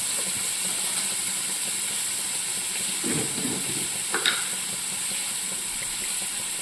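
Ingredients sauté in a hot pan for Karaikudi chicken curry, a steady sizzling hiss broken by a few scraping stirs of a spoon and a brief metallic clink.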